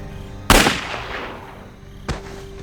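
A gunshot in a Marvel Secret Invasion scene where a man is shot dead in a forest: one sharp, loud crack with a ringing tail, then a second, fainter shot about 1.5 seconds later.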